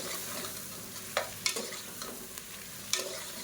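Quiet sizzling of mushrooms sautéing in a pan with a few sharp scrapes and clinks of a utensil stirring, irregularly spaced, no voices.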